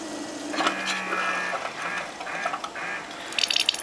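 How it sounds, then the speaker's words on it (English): A special edition Keurig brewer pushes hot water through a reusable My K-cup, with a steady mechanical pump hum, gurgles and trickling, and a burst of sputtering near the end, heard up close without talking. "the hot water is passing through the K-cup inside the sheath itself"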